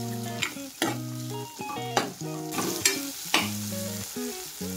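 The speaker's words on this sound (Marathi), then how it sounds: "आणि शेंगदाणे हे छान परतून घेऊ आपण" Peanuts and chickpeas sautéed in a hot pan, a steady close sizzle broken by regular scraping stirs of a spoon against the pan, with no talk.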